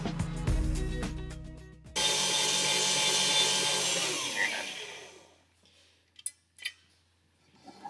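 Electric stand mixer labouring as it beats thick nougat after hot 155-degree sugar is poured in, a loud dense whirring grind that holds steady for several seconds, then cuts off, leaving a few faint knocks.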